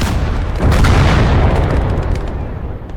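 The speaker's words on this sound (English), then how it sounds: "I'd bring up the Flak Panzer, and I'd let that shoot down the road" A Flak Panzer firing down a road in the World War II strategy game Call to Arms – Gates of Hell: Ostfront, heavy close booms that roll into a thick rumbling blast with no pause between them.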